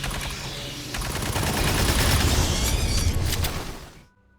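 A Halberd auto rifle fires in Aliens: Fireteam Elite, a loud sustained automatic burst with rapid repeated shots that cuts off abruptly at the end.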